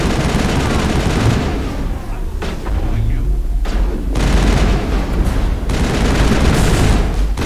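Sustained video-game gunfire in Mass Effect, a dense loud barrage of shots and thuds with brief lulls, layered with voices talking over the firefight.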